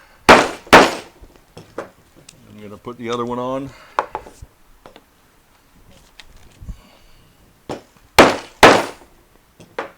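Several sharp hammer blows on hard PVC pieces on a table land in small clusters, with a short spoken remark between them, close and fairly loud.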